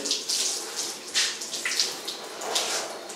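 A tap runs steadily while hands are wetted for hygienic handwashing, a close, continuous hiss of water with small splashy fluctuations and no talking.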